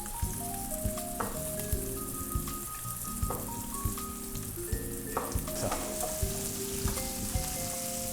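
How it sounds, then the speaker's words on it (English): Pieces of onion fry in hot oil in a pan, giving a steady sizzle with crackling pops and occasional stirring clatter, close and alone. "You can add now the pieces inside the oil."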